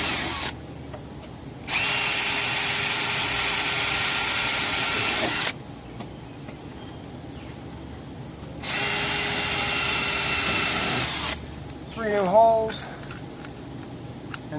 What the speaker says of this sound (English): I'm going to pre-drill